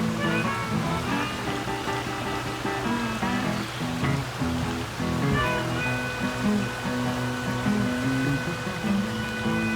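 A creek flows steadily beside a campground, a continuous low water rush beneath prominent sustained tonal sounds layered over it.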